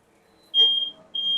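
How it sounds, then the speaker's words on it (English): Smoke alarm tripped by a hot griddle pan in a home kitchen, sounding two loud piercing beeps separated by a short gap, with no voices. "As you can hear, we did indeed set off the alarm"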